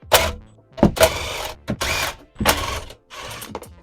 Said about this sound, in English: we're going to take off these bolts from the stock radio